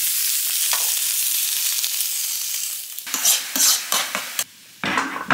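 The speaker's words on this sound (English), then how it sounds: "I just dry fried some tofu and then added some tamari and some sesame oil" Tofu dry-fries in a pan with a loud, steady close sizzle, then gives way to a few bursts of stirring and crackling with short pauses between them; no voices.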